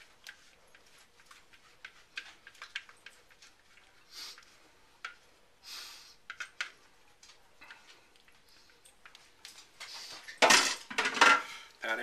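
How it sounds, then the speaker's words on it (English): A spatula scrapes and taps against a dish while scooping out a cheesy potato gratin mixture, giving scattered light clinks and scrapes that grow louder in a burst of clattering near the end. "grab the spatula so we don't lose out on any of the cheesy goodness"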